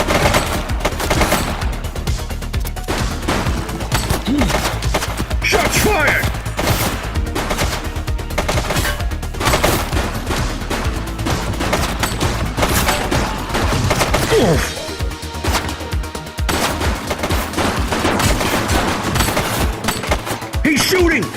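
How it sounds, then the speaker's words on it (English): Sustained bursts of gunfire from police and suspects in The Precinct video game, a dense, continuous fusillade of rapid shots with music running underneath and no pause for over twenty seconds. "Shots fired!"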